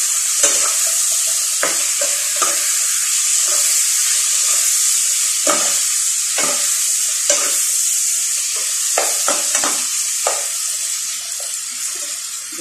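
Pinakbet cooking in a pan: continuous bright sizzling of frying vegetables, punctuated by repeated scraping stirs and clinks of a spatula, close and steady with no talk.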